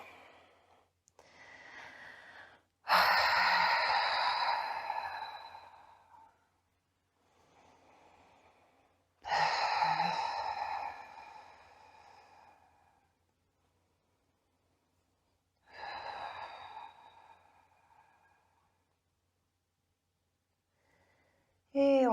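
Deep breaths taken while holding a beginner hip stretch for the side split: three loud, breathy exhales spaced about six seconds apart, each tapering off, with softer inhales between them.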